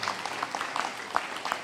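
Scattered hand claps from a church congregation, a brief, moderately loud patter of applause with sharp individual claps standing out.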